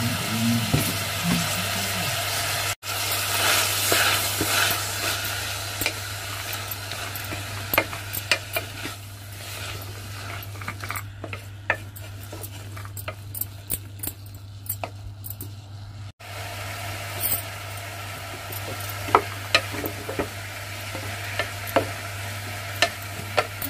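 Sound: tomato, coriander and coconut frying and being stirred in oil

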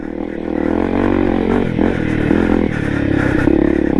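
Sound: Honda CRF250 enduro motorcycle engine revving on a trail

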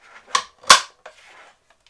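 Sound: closing a 4x5 film holder loaded with Instax film

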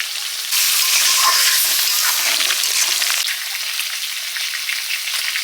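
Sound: sautéing potatoes with spices in a pan

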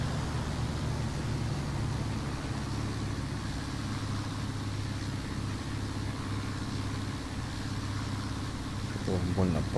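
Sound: aircraft engine while landing in War Thunder video game

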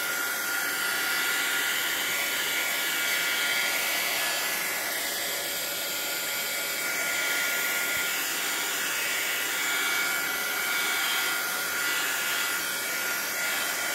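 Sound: dryer drying distress ink sprayed on an envelope

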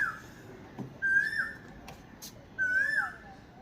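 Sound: birds calling on a nature trail

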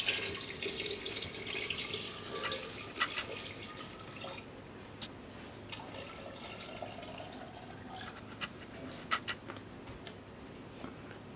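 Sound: water being poured into a container

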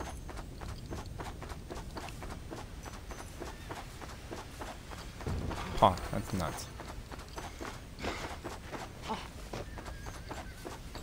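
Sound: horse hooves galloping in video game Red Dead Redemption Undead Nightmare

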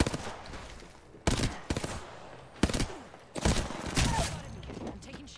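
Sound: gunfire in the video game Apex Legends

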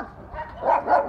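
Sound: dogs barking

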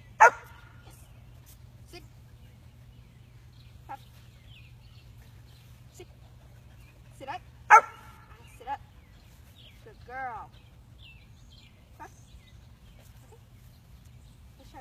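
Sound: 6-month-old German Shepherd barking on command

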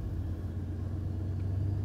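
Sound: car engine starting and running

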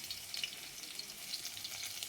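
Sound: mustard seeds and garlic sizzling in hot oil

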